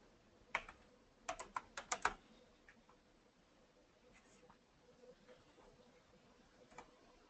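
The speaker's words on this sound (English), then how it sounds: "so I'll type that in" Typing on a computer keyboard gives a quick cluster of faint, close key clicks near the start, then scattered lighter taps in a quiet room.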